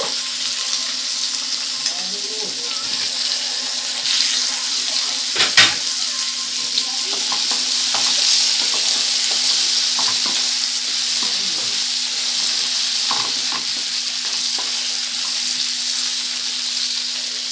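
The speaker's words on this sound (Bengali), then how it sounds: "কড়াতে আবার একটু তেল দিয়ে দিলাম দিয়ে আলুগুলোকে একটু ভালো করে ভেজে নেব" Potatoes fry in oil in a wok with a steady, close sizzle, broken by an occasional clatter of stirring and a brief splash of water in the background.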